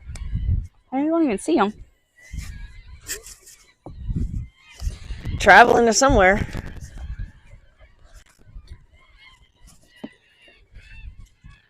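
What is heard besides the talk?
flock of seagulls calling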